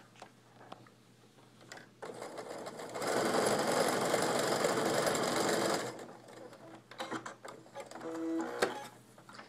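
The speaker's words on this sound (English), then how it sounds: "you can stack them up and just chain piece all of these" A sewing machine chain-pieces quilt block components in one loud, steady run of rapid stitching lasting about four seconds, framed by quieter handling clicks and rustles before and after.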